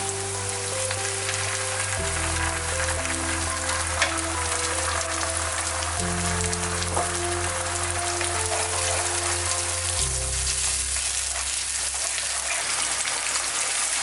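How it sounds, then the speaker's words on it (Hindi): Tomato puree hisses into frying masala for an onion-tomato fish sauce, a steady close sizzle and bubbling over a droning musical background, no talking. "हम डालेंगे टमाटो प्यूरी"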